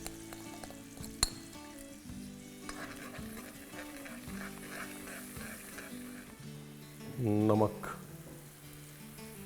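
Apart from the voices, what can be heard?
stuffing masala being roasted (bhuna) in pan for stuffed tinda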